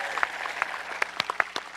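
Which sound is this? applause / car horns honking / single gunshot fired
applause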